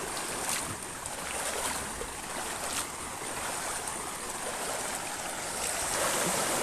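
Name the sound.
river stream flowing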